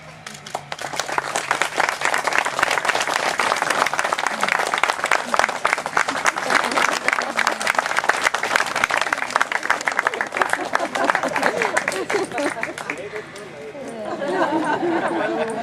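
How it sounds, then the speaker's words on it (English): Wedding guests rise to applaud the newly married couple at a Texas reception, a long, dense burst of clapping mixed with cheering and chatter that fades toward the end as voices take over. "Let's rise and give them some big Texas applause."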